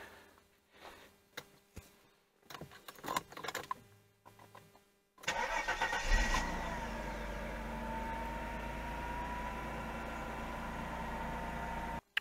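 A Mercedes SL280 R129 engine cranks and catches on the first attempt after a few quiet clicks and rustles, then settles into a steady, loud idle that holds to the end.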